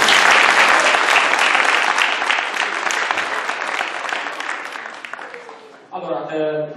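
An audience at an astronomy lecture applauds loudly for about six seconds after the speaker is introduced. The clapping fades gradually, and a voice begins speaking right after.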